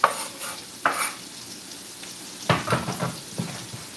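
Onions for halushki with ham and bacon fry in a pan, giving a low constant sizzle broken by a few sharp stirring scrapes and clatters, close by and with no speech.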